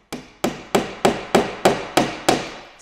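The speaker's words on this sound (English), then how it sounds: "Just get the hammer." Hammer tapping a wall anchor into a wall, eight evenly spaced sharp knocks with short decaying rings, close and clear with no talking.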